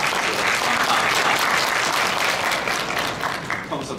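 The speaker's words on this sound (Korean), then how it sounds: "평소 받아보지 못한 박수도 다 받아보고" An audience gives a lecturer a dense burst of applause that fills the space, steady and loud before tapering slightly at the end.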